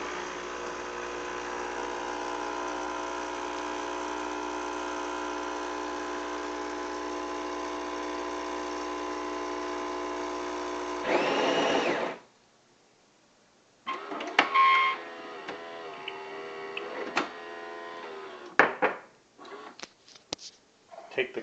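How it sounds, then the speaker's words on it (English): A super automatic espresso machine runs with a steady mechanical hum while drawing an espresso for a macchiato, then cuts off; after a pause, clinks and light handling sounds follow. "under the super automatic, and draw an espresso."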